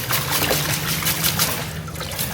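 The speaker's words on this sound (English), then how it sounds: "We'll go ahead and dunk it in some of this water, kind of rinse it off." A water lily tuber is dunked and rinsed in a tub of water, giving a soft, continuous close trickling and dribbling of water throughout.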